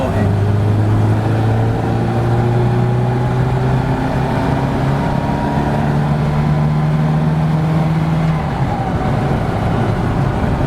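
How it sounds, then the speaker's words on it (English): Classic Mini van accelerating hard in third gear from about 40, a loud, steady engine drone rising in pitch over ten seconds, heard from inside the cabin. "This is third gear now. Watch how quick it is from 40."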